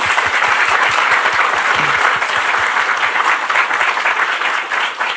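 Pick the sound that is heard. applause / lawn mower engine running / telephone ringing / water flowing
applause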